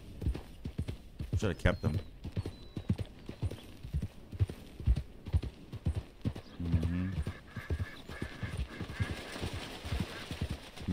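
Horse hooves clip-clopping at a gallop in the video game Red Dead Redemption 2, a fast rhythmic drumming that carries on throughout, with a brief whinny partway through and someone talking over it.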